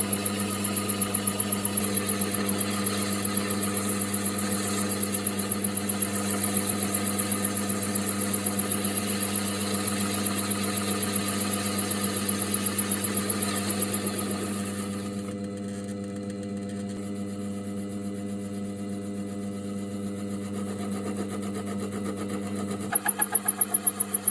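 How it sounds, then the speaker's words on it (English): A mini lathe turns an aluminium robot part while a parting tool cuts in, giving a steady whirring motor drone with a faint high whine and tonal hum that shifts slightly midway. "once you get under the skin of the aluminium, it'll machine quite cleanly"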